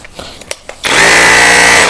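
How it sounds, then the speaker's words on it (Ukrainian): Grand cordless rotary hammer, a 2-joule model, kicks in after a few light taps and runs loud and steady in hammer mode with a dense buzzing rattle for about a second. "Це перфоратор. На 2 джоулі прямий."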